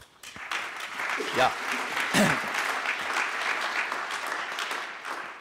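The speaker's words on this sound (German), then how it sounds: "Einen herzlichen Applaus zum Willkommen heißen." Audience applause welcoming a speaker at a digital society conference, a dense wash of clapping lasting throughout, with a brief spoken word from a voice near the start.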